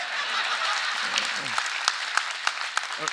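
Audience clapping during a political speech by Tamil Nadu's Deputy Chief Minister at a stage event, steady broadband clapping throughout with a few sharper claps standing out and a voice briefly audible underneath.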